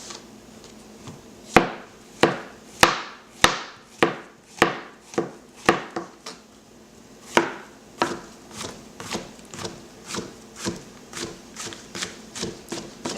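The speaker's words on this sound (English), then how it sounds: "Just give them a quick slice." A knife slices portobello mushrooms on a cutting board, a steady series of crisp chopping strikes, close and loud at first, then lighter and quicker toward the end.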